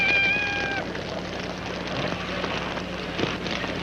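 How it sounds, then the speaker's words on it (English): A cat gives one short meow near the start, then steady rain-like noise carries on underneath through the rest of the clip. "We've only got a cat."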